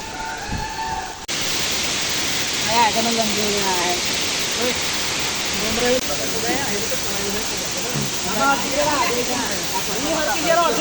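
A monsoon waterfall near Pavagadh gives off a loud, continuous broadband roar of falling water, with people talking and calling out over it throughout.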